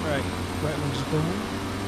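An aircraft's right engine starting in FSX, a steady engine hum with a low tonal drone and some brief rising whines over it.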